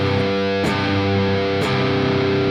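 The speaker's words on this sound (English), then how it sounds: "you should be able to strum the whole guitar with just more the bottom strings and only hear that one note" A distorted electric guitar is strummed repeatedly, muted strings letting a single sustained note ring through between scratchy strokes.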